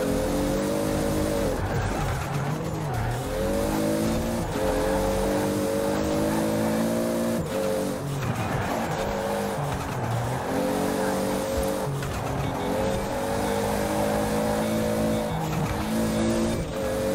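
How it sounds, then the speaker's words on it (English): A racing car in the Forza video game, engine revving hard through repeated upshifts with rising tones, turbo whooshes and tire squeal, loud and continuous throughout with no talking. "I know the sound isn't accurate to real life, like how the car actually sounds, but just with the turbo noises"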